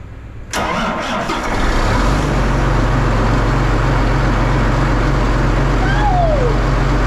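A tractor engine that has been plugged in overnight cranks briefly, then fires and settles into a loud, steady diesel idle with a deep, constant rumble, close by and alone.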